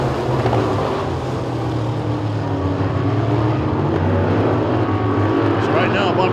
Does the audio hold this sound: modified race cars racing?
yes